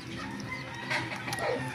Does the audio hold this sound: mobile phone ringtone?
no